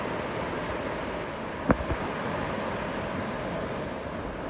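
Broad, steady roar of rushing river rapids at McConnells Mill, heard from the bank, continuous and moderately loud with wind, with a couple of brief knocks near the middle and no talking.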